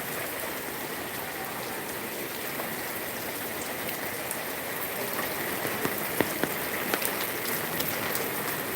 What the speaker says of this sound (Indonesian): Ya, hujan deras ini guys.